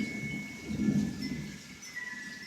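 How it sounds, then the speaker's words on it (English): Heavy rain pours during a severe thunderstorm with constant lightning, a dense close hiss with a deep low rumble of thunder swelling in the middle. "And the rain is coming down again."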